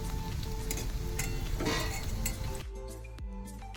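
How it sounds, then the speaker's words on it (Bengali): Shiuli leaf fritters sizzle in hot oil, a continuous crackling fry with clinks of a utensil against the pan, the sizzle dropping quieter near the end. "বড়া ভাজা হচ্ছে"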